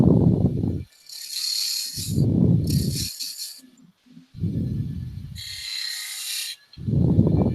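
A skew chisel cuts spinning wood on a lathe, giving loud, steady scraping bursts of a second or so that alternate with quieter high hissing passes and short pauses.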